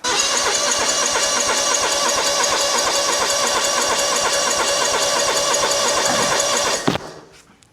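A John Deere 717A mower engine cranks steadily and loudly for about seven seconds with a fast, rhythmic churning, then stops abruptly and fades out.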